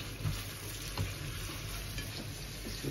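Food with rosemary sizzles and fries steadily in a pan, with a few stirring scrapes and knocks near the start and around the middle, close and continuous.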